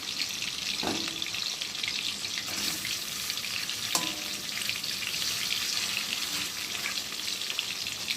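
Live Indian rohu (rui) fish pieces fry in hot oil, giving a steady, dense sizzle throughout with a few brief clinks or splashes, close up and with no talking.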